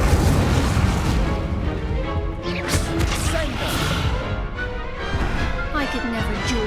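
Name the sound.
Incendio spell explosion in the video game Hogwarts Legacy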